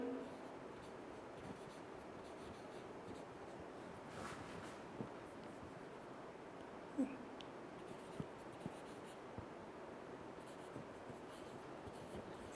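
Marker or chalk scratching across a board during a chemistry lecture, faint and close, in short strokes with small taps and pauses, with no talk.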